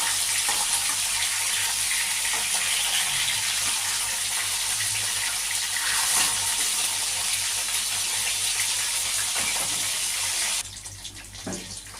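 Fish pieces frying in oil in a pan, a dense, steady, loud sizzle and crackle running almost without break, then dropping off sharply near the end.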